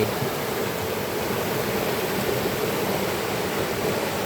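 Water pours without pause at Wang Takrai waterfall in a national park, a broad, steady rush that fills the space evenly and loudly, with no voices.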